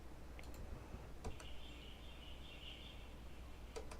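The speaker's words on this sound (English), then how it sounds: "So this is birds." Quiet outdoor ambience with a soft broadband hush, a few sharp distant clicks and chirps, and a thin high bird call held for about two seconds in the middle.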